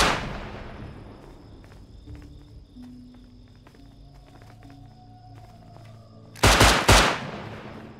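Gunfire from a player emptying his ammo in the survival game Rust, a couple of loud sharp bursts near the end following a stretch of quiet ambience with faint insect chirps.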